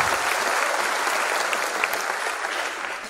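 Audience applause for a bus driver at a motivational talk for NEET-JEE students fills the room, a steady dense wash of many hands clapping at even loudness, with no voices over it.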